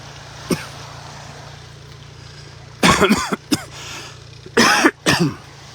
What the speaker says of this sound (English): That was the morning coughs right there.